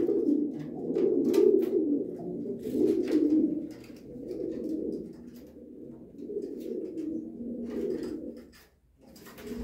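Racing pigeons in a Romanian loft coo in low, throaty rolling phrases, several birds overlapping close by, swelling and fading in waves, with a few light rustles and taps between calls.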